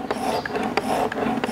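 A single bevel broadhead being sharpened on abrasive paper, with close, rhythmic rasping strokes repeating about every third of a second.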